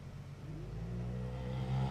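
An Ultra4 off-road race car engine drives and builds revs in desert racing, a low steady drone rising in pitch and loudness over two seconds, heard at a distance without voices.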